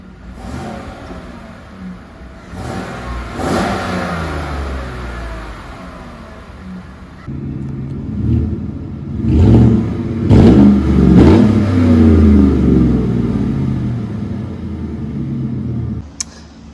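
A 2014-2018 GMC Sierra pickup with stock factory exhaust idles, then revs repeatedly with rising roars and a deep, rumbling exhaust drone, loud and close with no talking.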